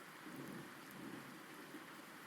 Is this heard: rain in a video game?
yes